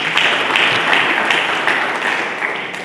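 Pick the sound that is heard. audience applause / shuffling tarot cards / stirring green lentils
audience applause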